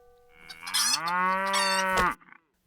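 A single long, loud cow moo on a farm, rising then holding steady for over a second before cutting off, with no other animals or voices nearby.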